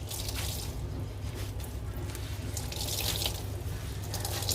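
Liquid trickles and drips as grated potato is squeezed by hand for rosti, a soft continuous watery patter up close, with no voices.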